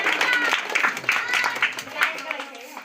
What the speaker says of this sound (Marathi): त्यांचेही आम्ही टाळ्या वाजून हार्दिक स्वागत करीत आहोत